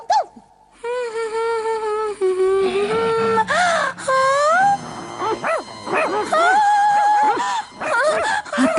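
A cartoon ninja imitates a dog in a Hindi-dubbed animated episode, voicing drawn-out whines, yelps and howls in a loud, wavering tone, with other voices between them.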